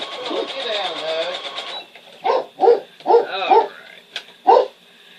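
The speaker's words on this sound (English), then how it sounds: "Please ignore the dog. He barks at squirrels and everything." A house dog barks close and loud in a rhythmic run of about five barks. A voice speaks briefly before the barking starts.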